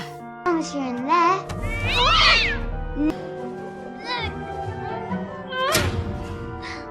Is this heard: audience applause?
no